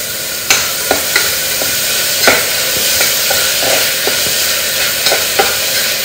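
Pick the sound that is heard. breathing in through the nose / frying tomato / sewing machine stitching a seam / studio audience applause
frying tomato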